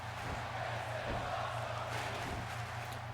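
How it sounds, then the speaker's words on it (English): A large arena crowd in the WWE 2K16 wrestling video game, set in Houston, Texas, gives a faint, steady roar with a few swells of cheering, low in level under a hum. "The crowd here in Houston, Texas, fully behind Roman Reigns"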